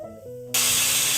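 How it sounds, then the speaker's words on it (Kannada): A pressure cooker on the stove with mutton curry inside lets out a loud, steady steam whistle that bursts on abruptly and holds as a strong hiss. "3 ವಿಜಿಲ್ ಬಂದಿದೆ, ಇನ್ನೂ 1-2 ವಿಜಿಲ್ ಬರಲಿ"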